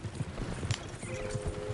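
Horses' hooves clip-clop on the ground in a video game on PS4, a steady, fairly close rhythm of several hoofbeats with a faint whinny-like tone partway through.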